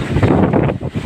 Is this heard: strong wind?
yes